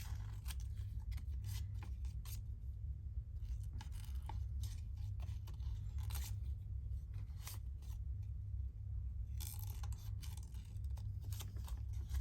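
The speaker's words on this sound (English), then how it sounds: "You see I snip the bits off because otherwise they get in your way when you're trying to cut." Scissors snipping around a paper bird cutout in a crafting session, a steady run of small crisp cuts repeating close up over a low background hum.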